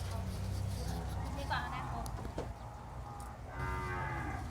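Cattle mooing at a cattle and buffalo market in Wang Prachop, Tak, with long moos rising over steady crowd murmur and a low rumble, while people talk nearby.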